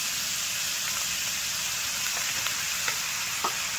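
Meat stir-fried with fish sauce in a pan gives a steady, loud sizzle with a few faint scrapes of stirring over it, and no one speaks.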